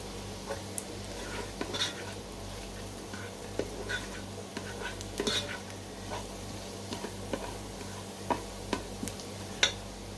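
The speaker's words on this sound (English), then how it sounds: "I've got the saute option on my pressure cooker set to medium." Red cabbage sautés in butter in a pressure cooker on a medium setting, with a soft steady sizzle, a low appliance hum and occasional light scrapes of stirring against the pot. The sound is quiet and close, with no talk.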